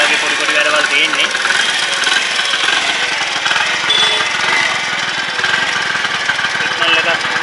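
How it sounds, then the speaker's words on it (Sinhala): A Honda CD 90 Benly motorcycle engine starts and idles with a steady, loud, close putter, and someone talks over it. "අපි බයික් එක ස්ටාර්ට් කරලා බලමු."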